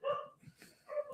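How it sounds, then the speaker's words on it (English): Dogs bark in a few sharp bursts, two loud barks framing a softer one in the middle, fairly close with no talk over them. "Don't know why my dogs are barking."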